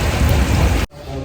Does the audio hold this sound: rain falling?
yes